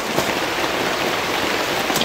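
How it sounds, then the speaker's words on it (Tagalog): Rain falls steadily on an open field, a dense, close hiss of drops with a few brief louder patters and no talking. "Natin yan ang ulan!"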